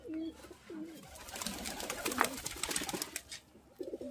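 Pigeons coo softly in a loft in Sangrampur, with several low, rolling calls near the start and end over faint background rustle and quiet activity.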